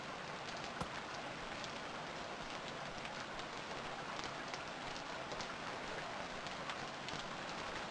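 Steady rain falls in the survival video game Stranded Deep, a dense, even hiss of drops filling the scene with no pauses and no talk.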